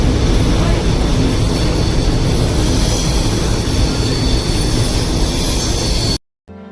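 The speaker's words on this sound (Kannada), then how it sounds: "ಎಲ್ಲರೂ ಹತ್ಕೊಂಡಾದ್ಮೇಲೆ ನಮ್ ಟ್ರೈನ್ ಹೊರಡೋಕೆ ಸ್ಟಾರ್ಟ್ ಆಯ್ತು." A train pulls away from the station on a trip to Mysuru, a steady loud rumble and rolling roar filling the whole clip before it cuts out abruptly near the end.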